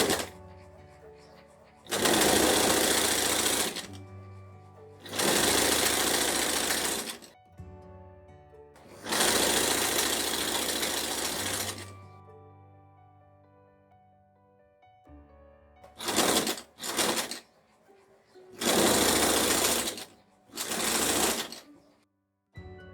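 An electric sewing machine stitches a jumpsuit in loud, bright bursts of rapid needle chatter, several runs of a few seconds each separated by quiet pauses, with a few short quick bursts near the end.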